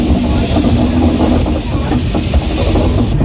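Howrah–Puri Shatabdi Express pulling out of Kharagpur station, heard as a loud, steady rumble of rolling carriages with faint rhythmic clatter and a hissing wash, continuous throughout with no talk.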